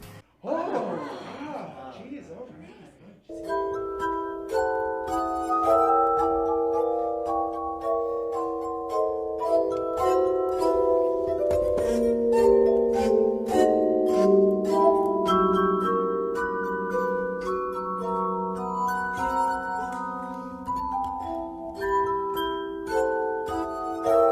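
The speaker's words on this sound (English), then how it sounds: "if you move your finger around them, you can make them vibrate, and then they ring out in a particular sound" A finger circles the rim of a glass until it sings, a sustained ringing tone that swells and holds steady for over twenty seconds with clear overtones, after a brief moment of speech at the start.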